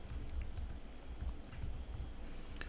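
Keys clatter on a computer keyboard while text is entered in Illustrator, a steady run of close, soft clicks with no voices.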